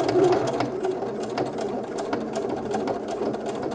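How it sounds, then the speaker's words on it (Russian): A sewing machine runs steadily as it stitches a cuff onto a sleeve of a quilted shirt-jacket, a close, continuous rapid whirring and ticking with no talk. "нам необходимо будет проложить строчку прямо между деталью манжеты и рукавом"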